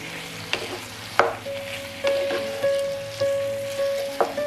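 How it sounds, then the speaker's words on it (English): Minced pineapple sizzles as it is stirred into a Vietnamese braised pork belly base: a steady frying hiss, with clinks of a utensil against the pan at regular intervals close by, and no voices. "Add the minced pineapple and stir."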